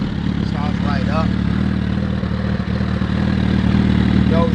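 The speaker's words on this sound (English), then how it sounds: "Started right up. Idling good." A custom Suzuki Hayabusa motorcycle engine idles nearby with a steady, even low rumble, while someone talks over it.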